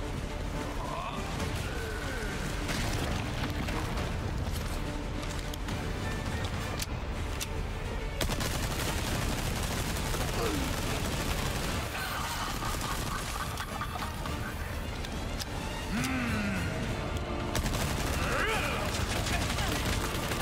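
Enemy gunfire in the video game Resident Evil 4 Remake, dense repeated shots and bursts clattering nonstop over a noisy game mix, with a player's voice talking at times.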